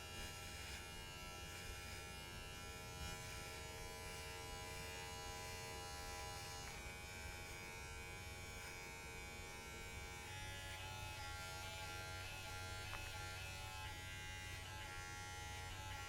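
Electric hair clippers with no guard and the lever open buzz steadily and loudly through a self-administered taper fade haircut, a continuous close motor drone with slight shifts in pitch as the blade moves through hair.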